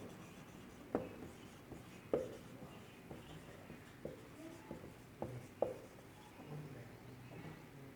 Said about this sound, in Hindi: तो लिख दो।